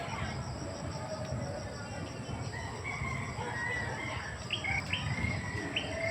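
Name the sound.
birds calling in a backyard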